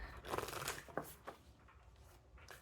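Soft riffling and papery flutters of tarot cards being shuffled, a few quick bursts close to the microphone with quiet pauses between.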